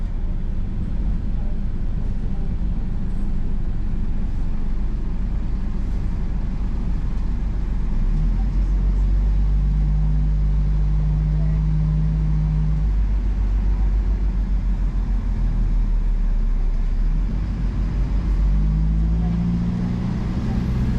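A Rapsons Highland 809 bus on the road from Ullapool to Lochinver through open countryside, its engine a steady low drone with road rumble throughout, and gear changes that shift the pitch of the hum.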